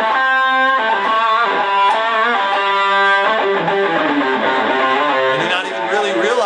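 Electric guitar run through a distortion pedal into the third channel of a tube amp, heavily saturated sustained chords and notes ringing continuously, loud and dense with no talking.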